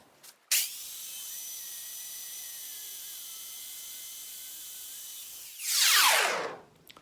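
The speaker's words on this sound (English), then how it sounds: "That saw is loud, but boy, does it make a nice quick cut." A Harbor Freight bandsaw runs with a loud, steady high-pitched whine for several seconds, then its tone swells into a brief harsh burst as the blade finishes the cut and spins down; no talking.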